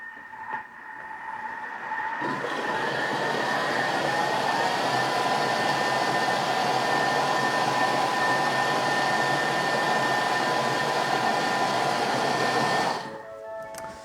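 A Thermomix blending water into a velouté at speed 5, a loud steady whirring motor hum that starts after a brief pause, holds evenly for about ten seconds, then winds down.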